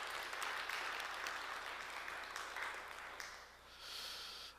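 A congregation in a Korean church breaks into applause, a soft, continuous wash of clapping heard from a distance that fades slightly before swelling again near the end.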